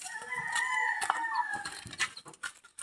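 Chickens running around outdoors give clucks and a rooster-like crow, fairly close, with scattered short clucking bursts over a busy background.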